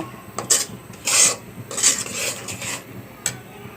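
A utensil scrapes and stirs through thick sugar syrup with cumin and panch phoron spices in a pan for mango pickle, giving repeated close rasping strokes in an uneven rhythm with no talk.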